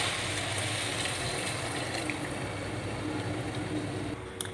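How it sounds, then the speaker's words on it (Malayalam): Water pouring into a cooking pot for boiling rice, a steady, continuous gushing rush close by that stays even and then briefly eases near the end, with no talk. "നമുക്കിതിലേക്ക് അരി വേവാൻ ആവശ്യമായിട്ടുള്ള വെള്ളം ഒഴിച്ച് കൊടുക്കാം"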